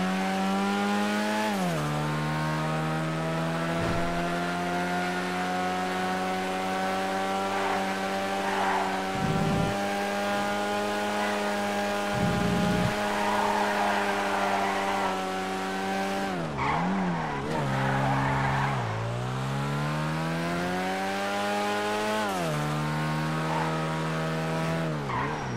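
Silvestre two-door car driven in a video game: a loud engine revs and shifts repeatedly, pitch climbing and dropping through gear changes, with tire squeal during turns, no talking.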